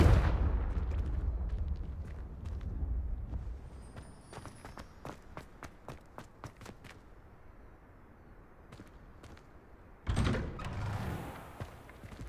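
A Confringo fire spell bursts out in the Hogwarts Legacy video game, a sharp blast at the opening that fades into a low rumble, with a second burst of noise near the end.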